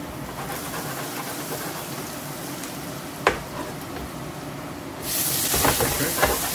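Peeled shrimp frying with chopped garlic in a pan, a steady hiss of sizzling that swells louder near the end, with a brief clack of a utensil partway through.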